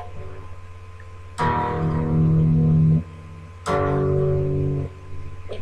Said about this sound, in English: There's an echo, that's from my distortion pedal, because it has an echo sound.